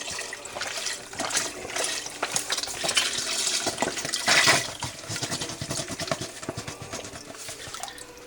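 Chicken broth poured from a carton into a soup pot of smoked chicken noodle soup, a steady splashing liquid stream running continuously at close range with no talk over it.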